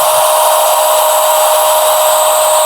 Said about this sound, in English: when I'm sanding it, it's being abraded off, so it's basically being ground off